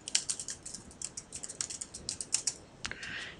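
Rapid clicking of computer keyboard keys in an uneven burst of several seconds, close and fairly quiet, ending with a short pause and a faint rustle.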